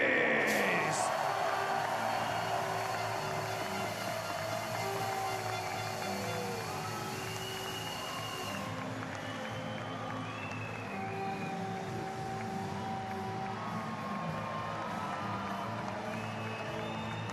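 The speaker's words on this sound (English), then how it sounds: "Merci d'applaudir très fort." A distant crowd at a STIHL Timbersports individual world championship applauds and cheers for a competitor from the United States, a faint, steady wash of clapping and voices with some whistles and whoops over a long stretch.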